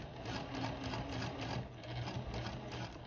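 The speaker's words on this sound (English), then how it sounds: "I want a couple stitches back and then a back stitch." A sewing machine runs a few back stitches while a zipper is sewn. It gives a steady, continuous mechanical whir with a fast needle rhythm, close and moderately loud, alone with no voices.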